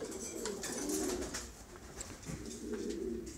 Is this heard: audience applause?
no